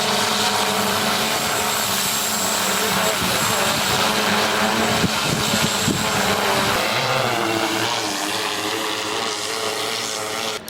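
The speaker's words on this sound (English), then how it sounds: "This is an expensive drone. You wanna make sure everything's working before you test flight this thing." An Autel Alpha drone lifts off, its rotors a loud, steady whirring drone that fills the whole stretch and shifts pitch as it climbs, with a person speaking over it.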